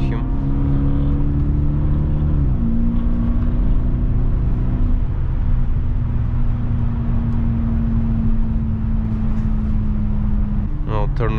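A BMW E65 745i 7 Series sedan with worn valve seals drives and accelerates in cold weather, its loud steady engine drone rising in pitch and holding a strong hum throughout, close up from inside the car.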